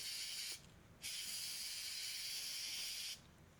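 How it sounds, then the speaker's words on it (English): Bursts of aircraft paint stripper hissing from an aerosol can onto a Hot Wheels 1975 Chevy Monza body, a long continuous spray broken by short pauses, close and fairly loud. "We're going to go ahead and spray the body with that aircraft remover once again"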